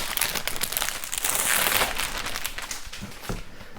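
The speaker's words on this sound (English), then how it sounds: "Let's open up this plastic container." Plastic crinkles and crackles up close as a plastic container from a board game box is opened, with dense handling noise that peaks midway and then eases off, and no voices.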